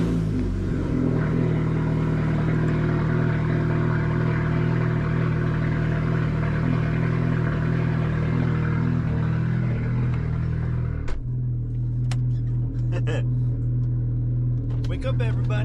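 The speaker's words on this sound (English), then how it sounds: "Let's get this cold start." A car engine idles steadily after a cold start at a morning cars and coffee meet, a low even drone that shifts to a lower settled idle partway through, with scattered clicks and faint background noise.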